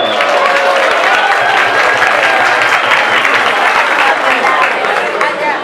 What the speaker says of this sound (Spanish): premio, un aplauso